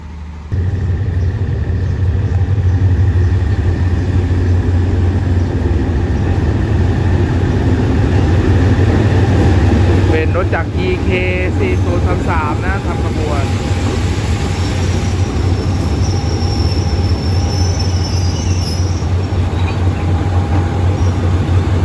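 A sleeper train rolls through Surat Thani station in Thailand with a steady, loud low rumble of passing railcars and wheel noise throughout, and faint voices beneath.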